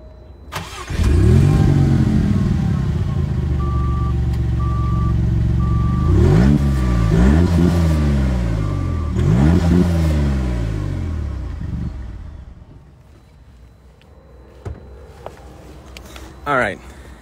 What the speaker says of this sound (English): Somebody asked for the rev. Let's go for a rev.